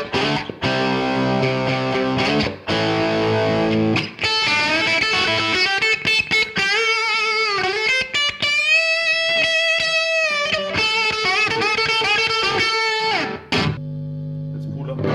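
An electric guitar plays through a tube amp with mild preamp distortion at low volume, giving a sustained chord, then a run of bent, singing lead notes, loud and close, and ending with a brief low tone.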